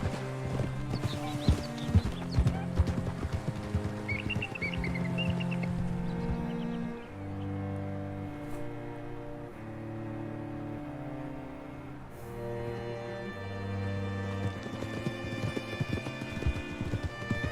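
Horse hooves in Red Dead Redemption 2 clop in a steady, close rhythm throughout, with a background music score underneath.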